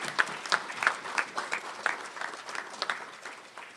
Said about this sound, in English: could we have another round of applause for Dr.